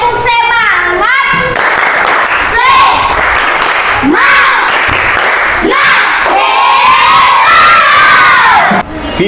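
Students in a volleyball lesson perform a spirit clap, loud young voices chanting in unison with bursts of clapping in a rhythmic, cheer-like pattern, close and energetic.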